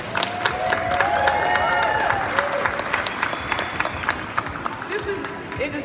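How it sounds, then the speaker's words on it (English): Audience applause and cheering at a fashion show as the models are welcomed, a steady, loud crowd clapping that fills the room, with voices calling out over it. "can we just give our models a round of applause?"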